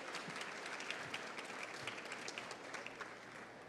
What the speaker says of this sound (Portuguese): Com uma salva de palmas bem forte